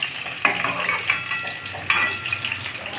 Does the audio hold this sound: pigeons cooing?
no